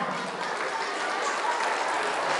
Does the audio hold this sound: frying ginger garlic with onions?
no